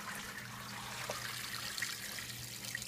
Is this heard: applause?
no